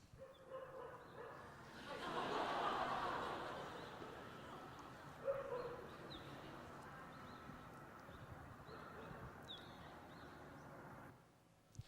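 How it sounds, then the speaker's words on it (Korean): A dog barks repeatedly from a recording played back during a church service, the yaps rising over a hazy outdoor background near a seaside rapeseed-flower field with birdsong. The barking is moderately loud at first, then continues more faintly. "계속 이 개가 왈왈왈 거리는 거예요"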